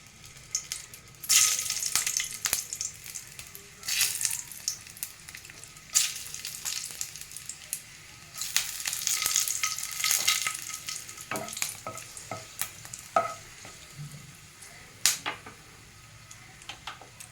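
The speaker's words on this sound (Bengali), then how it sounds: "তেলটা গরম হলে এর মধ্যে দিয়ে দেবো শুকনো লঙ্কা" A handful of dried red chillies fry in hot oil in a pan, giving an uneven, crackly sizzle with bursts and sharp pops. The pops come in clusters as the chillies are stirred, and nobody speaks.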